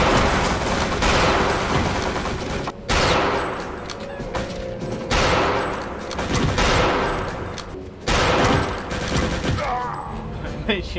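Repeated Mauser rifle shots and battle noise in a video game, running loud and dense throughout with sharp bursts recurring every few seconds.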